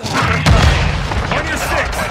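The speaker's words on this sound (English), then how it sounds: "Throwing grenade!" A grenade blast in Call of Duty Modern Warfare II multiplayer on the Farm 18 map, a loud booming thump near the start over dense battle noise and scattered gunfire, with a player calling out.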